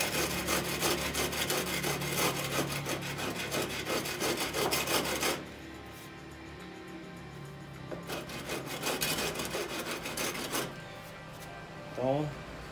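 A wooden stair template is sanded by hand with rapid, rasping back-and-forth strokes, loud and close, pausing briefly and resuming before ending with a few lighter scrapes and a knock.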